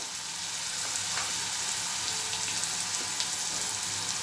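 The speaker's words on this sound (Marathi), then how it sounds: "कांदा छान आपला परतत आलेला आहे आता कांद्यामध्ये आपण थोडी हळद टाकून घेऊया" Onion sautéing in a hot pan with turmeric gives a steady, close hiss of frying, with faint stirring clicks and no voices.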